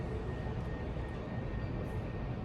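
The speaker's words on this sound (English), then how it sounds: "That's an airplane." An airplane flying over produces a steady, distant broadband roar that stays even throughout, with a faint tonal hum beneath it.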